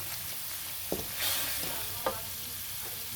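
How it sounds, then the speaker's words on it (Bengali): Spice paste with ginger and garlic fries softly in a pan, a faint steady sizzle broken by a couple of sharp stirring scrapes. "আদা পেস্ট রসুন 1 চামচ পরিমাণ দিয়ে মশলাটা আমি কষিয়ে নেব"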